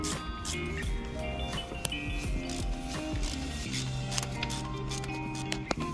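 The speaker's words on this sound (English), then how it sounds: "And the stubby ratchet." Stubby ratchet clicking as it turns the turbo studs on a 2011 BMW 535i with the N55 engine, a rapid close series of small mechanical ratchet clicks and taps, steady and alone.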